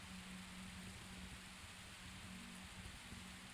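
Rain ambience, a steady faint wash of falling rain with a low hum underneath, continuous and without speech.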